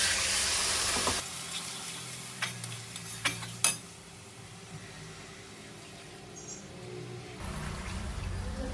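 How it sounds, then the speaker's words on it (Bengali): Water poured into a pan of fried spice paste that has released its oil, a sizzling hiss that drops and settles into a quieter simmer with a few spoon clicks, then rises again with more water near the end. "এইদিকে মশলা কষানো রেডি তেল ছেড়ে দিয়েছে দিয়ে দেবো জল"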